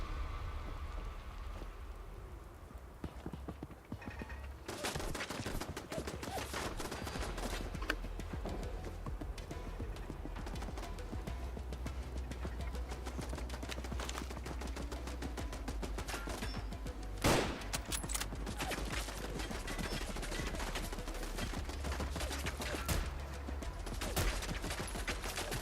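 Gunfire in the video game Fallout London from an imprecise gun, heard as scattered cracking shots over a steady background hiss, fairly faint throughout.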